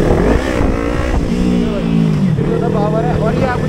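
Kawasaki Ninja 300 motorcycle engine revving up and down with rising and falling pitch, loud and close, under someone talking over it.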